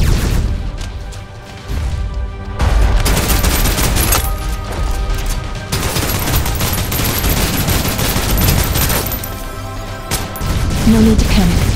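Dense suppressive gunfire in Snowbreak Containment Zone, loud bursts of rapid automatic fire with crashing impacts, broken by a couple of brief lulls and running almost continuously throughout.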